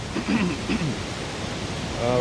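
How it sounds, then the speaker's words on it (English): Iron Creek Falls near Mount St. Helens, off Highway 25, a steady broadband rush of falling water heard nearby, with a few faint voices at the start. "So here we are at Iron Creek Falls."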